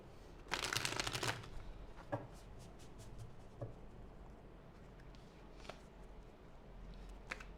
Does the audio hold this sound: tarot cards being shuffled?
yes